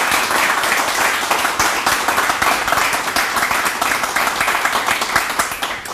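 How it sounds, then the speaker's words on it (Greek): Applause from an audience at a televised Greek music show with an orchestra and percussion, sustained and dense with steady clapping throughout, fairly loud and even. "Δώστε μεγάλο χειροκρότημα."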